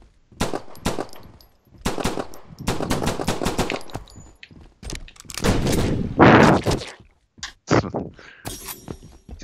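Rapid bursts of gunfire and grenade blasts in the PC multiplayer shooter SHiRO, loud, close and repeated across the whole stretch with short gaps between volleys.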